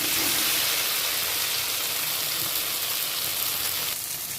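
Fish sautéed with turmeric in a wok gives a continuous, even sizzle of hot oil, close and fairly loud throughout with no talking.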